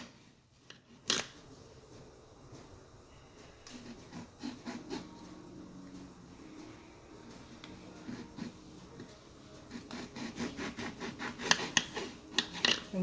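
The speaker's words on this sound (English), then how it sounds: "It wants me to cut up the lemon in 4 sections." A knife slices a lemon into quarters on a board, with soft rubbing cuts and a string of small crisp taps and scrapes near the end, close and quiet.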